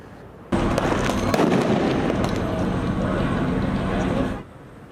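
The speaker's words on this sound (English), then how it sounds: "protesters clashed with police, some setting off fireworks and starting fires" Fireworks set off by protesters during nighttime street clashes with police in downtown Los Angeles, a loud, dense stretch of crackling bursts and roaring noise lasting about four seconds before cutting off.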